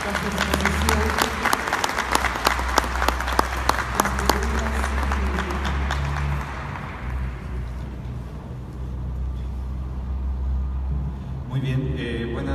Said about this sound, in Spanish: Un aplauso, por favor, por su exposición.